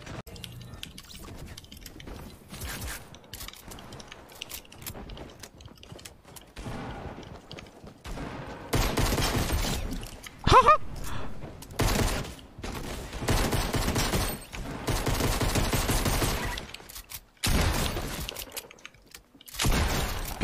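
Pistol gunfire in Fortnite gameplay, repeated quick shots in loud, dense bursts that grow heavier and more sustained through the second half.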